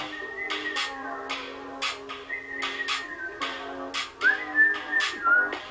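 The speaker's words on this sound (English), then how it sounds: "The little whistle." A melodic whistled tune plays over a rhythmic backing track in a song, bright pitched notes rising and falling in short phrases.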